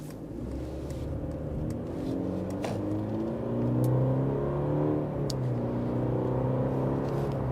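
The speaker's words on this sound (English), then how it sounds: "Let's take this sedan out for a quick test drive to see how it performs, how it handles, how it drives" A 2024 Mercedes-Benz E350 sedan with a 2-liter turbocharged four-cylinder and mild hybrid system, heard on a test drive: a steady engine drone and low road rumble that swells slightly midway, with no voices.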